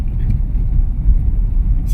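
Steady low engine rumble heard from inside a moving car, a continuous muffled drone with no distinct events, close and fairly loud.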